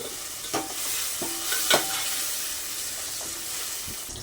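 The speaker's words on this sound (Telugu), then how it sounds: "ముందుగా కట్ చేసి పక్కన ఉంచుకున్న ములక్కాడ ముక్కలను కూడా వేసేద్దాం" Drumstick pieces go into a pan of cooked-down tomatoes for sambar, giving a steady sizzle and hiss with a few soft clatters and stirring knocks.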